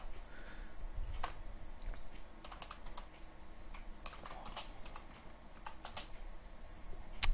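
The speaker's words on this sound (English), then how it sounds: "I realize it's a lot of typing just to get to the heart of the matter" Quiet, close typing on a computer keyboard, with irregular bursts of key clicks and short pauses and no voices.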